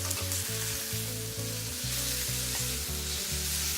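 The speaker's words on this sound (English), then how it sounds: "Gorgeous, gorgeous caramelization and sear on this meat." Steak sears in olive oil in a copper pan with a loud, continuous sizzle and crackle, close up, over low rhythmic tones in the background.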